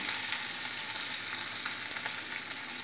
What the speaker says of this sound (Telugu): జీడిపప్పు కూడా వేయించుకుందాం